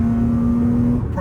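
A Lexus IS300 with a straight-pipe exhaust and cold air intake holding a steady engine hum with a loud low drone, brief and close with no voices.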